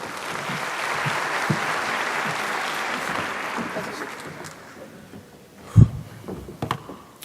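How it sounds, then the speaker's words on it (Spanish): Audience applause at an annual scientific conference on metabolic syndrome, a steady roomful of clapping that fades after a few seconds, followed by a couple of louder close knocks and faint movement. "Un aplauso, por favor."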